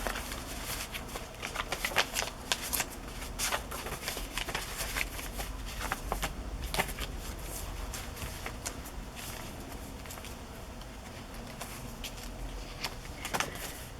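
Decorative vintage paper from TLC Creations being handled while decorating a candy cane journal, with steady close rustling and sliding, shuffling sounds running throughout.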